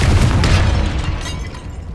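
A Confringo blasting-spell explosion in Hogwarts Legacy, a loud, heavy booming rumble that holds steady for two seconds without fading.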